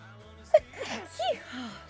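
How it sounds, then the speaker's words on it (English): A person with allergies sneezes indoors, a sharp sudden burst followed by breathy gasps and a second sneeze-like exhalation, fairly faint and close. "I'll go to sneeze again, I'm really sorry."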